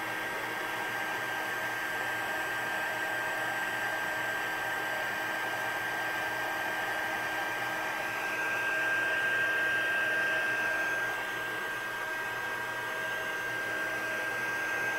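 Heat embossing tool blowing hot air over a handmade card, a steady hair-dryer-like whoosh that runs unbroken and close throughout, swelling slightly partway through, with no voices.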